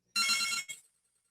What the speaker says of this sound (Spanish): dejen colgar el teléfono porque